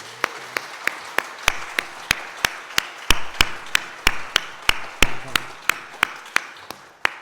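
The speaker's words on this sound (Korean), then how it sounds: "우리 다 같이 박수 한번 해야 돼요." Church congregation clapping together for the women's group leaders during a Korean Mother's Day service, heard as a steady, evenly spaced series of sharp claps, fairly close, with no talking over them.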